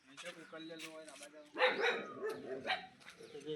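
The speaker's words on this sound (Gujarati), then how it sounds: "ઇંગ્લિશનો કૂતરો" A dog barks a few times at an animal shelter. The barks are short and close and mix with people talking.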